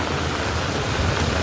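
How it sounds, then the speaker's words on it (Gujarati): Heavy rain pours down on a street in Surat as a dense, steady hiss with a low rumble, loud and close, lasting only a moment. "અત્યારે એટલા બધા વરસાદની અંદર"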